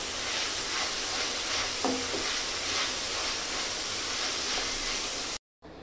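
Meat frying in a pan for a home-style dish: a steady, dense sizzle and hiss fills the whole stretch, close and even, with a faint clink partway through and a brief cut to silence near the end.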